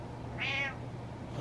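A male cat lets out a single short meow, close and clear over a quiet room hum.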